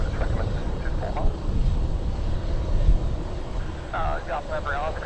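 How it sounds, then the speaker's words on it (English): Leonardo AW139 helicopter on final approach to Norwich Airport, a steady broadband engine and rotor roar that holds throughout, with a brief voice rising near the end. "number 1's an Augusta 139 helicopter on a 1 mile final."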